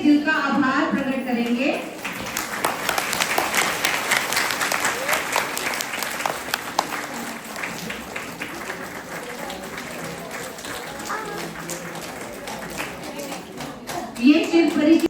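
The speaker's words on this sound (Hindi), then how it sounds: "तो तालियों से दिल का आभार प्रकट करेंगे।" Audience applause at a Shivratri celebration event: a long, steady round of dense clapping from a crowd, following a brief spoken phrase and ending as a voice resumes.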